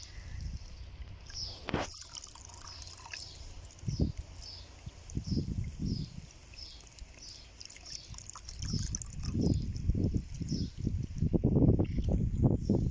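Water poured and splashed over a child's head during a bath at home after playing in sand, soft trickles and drips building into repeated splashy pours, fairly quiet and close.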